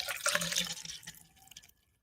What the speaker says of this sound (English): I'll take this opportunity to fill up my cup with some water.